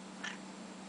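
A cat gives one short, faint meow, brief and close against a quiet background.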